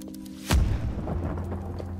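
A single blast goes off in the game Creativerse, a sharp, loud boom followed by a rumbling, crumbling tail that fades slowly.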